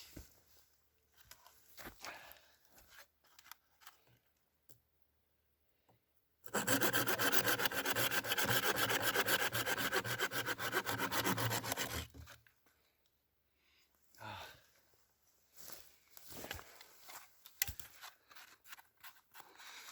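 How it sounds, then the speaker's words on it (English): Hand saw cutting into a pitch-rich fatwood log outdoors, a burst of fast rhythmic rasping strokes lasting several seconds, close and loud against quiet surroundings with faint handling noises before and after. "So let's saw into this and see if there isn't some nice fat wood in there."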